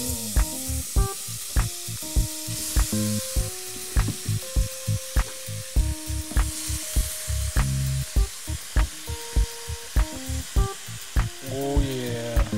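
Butter and about seven apples sizzle in a hot pan for a smoked apple pie. A bright, continuous hiss sits under louder rhythmic music with a clear melody and regular beats.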